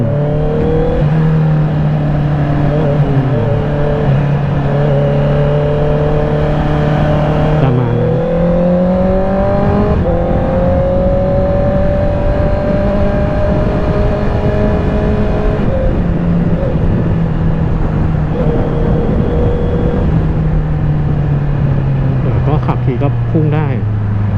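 Honda CBR650R E-Clutch motorcycle engine running steadily while riding, a loud continuous hum that rises and falls with throttle and gear changes, with a rider talking over it throughout.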